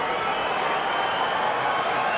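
A capacity boxing arena crowd of over 16,000 roars for Jean Pascal at a light heavyweight title fight, a dense, steady wall of cheering and applause with no break.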